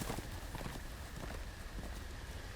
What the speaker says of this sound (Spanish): Un caballo que se asusta con gritos en el bosque.